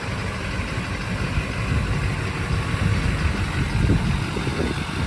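A Duramax diesel truck fitted with a 4-inch Banks exhaust and muffler idles nearby, a steady, gritty low-pitched clatter and rumble with no talking.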